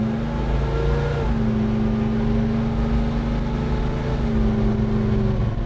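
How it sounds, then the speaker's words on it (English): A 1967 Chevrolet Chevelle's engine rumbles steadily through its exhaust, holding a loud, even drone with a slight rise in pitch partway through, with no one talking. "It's got a killer exhaust system on it."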